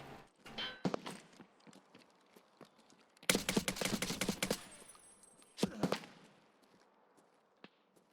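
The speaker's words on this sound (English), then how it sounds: "Somebody's shooting at me with an AK." AK rifle fire in Escape from Tarkov on the Lighthouse map comes as scattered sharp cracks, then a dense burst of rapid shots in the middle and a few later reports, fairly distant and quiet overall.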